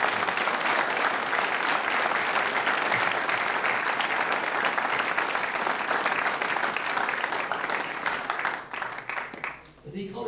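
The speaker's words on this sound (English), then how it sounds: "Could we give all our departing staff a huge round of applause?" Sustained, dense applause from a school prize-giving audience honouring departing staff, steady and loud for about nine seconds before thinning out at the end.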